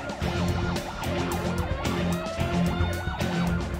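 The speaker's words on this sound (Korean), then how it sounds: "소방서에 들어서자 기다렸다는 듯 사이렌이 울리기 시작하는데요" Fire engine siren wailing at a fire station, loud and close, with repeating rising and falling tones layered over a low engine drone and sharp pulsing bursts.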